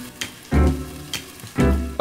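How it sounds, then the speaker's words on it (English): Cutlets fry in a hot pan, with two loud bursts of sizzling and crackle rising sharply and fading between quieter spells. "You need to start with frying cutlets."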